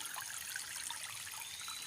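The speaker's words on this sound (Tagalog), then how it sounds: "Dito po nagmumula yung tubig." Water trickles steadily at the source of a small clear stream in the morning, a soft continuous babble close by with no voices.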